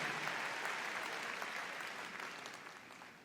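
An arena audience at the Crufts 2020 dog show applauds steadily, a dense wash of clapping that holds for several seconds and slowly eases off.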